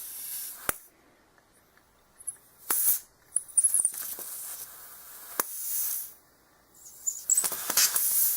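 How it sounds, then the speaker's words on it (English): A compressed air duster can sprays in several short, sharp hissing bursts separated by quiet gaps, close and fairly loud, with some faint handling noise between the blasts. "this is just a can of sprayer that you get for like cleaning your computer"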